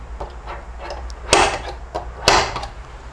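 A RENNSTEIG automatic center punch made in Germany fires into a piece of wood with two sharp, loud snaps about a second apart, with faint handling clicks in between.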